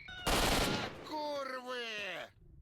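A short, loud burst of gunfire in S.T.A.L.K.E.R.: Shadow of Chernobyl, followed by a drawn-out voiced groan or shout that fades away.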